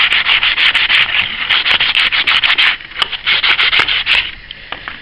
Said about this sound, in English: just scrape the corners down with a bit of sandpaper